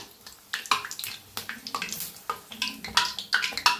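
Puri made with banana and jaggery deep-frying in hot oil, giving close, uneven bursts of bubbling and sputtering that come and go without any talk.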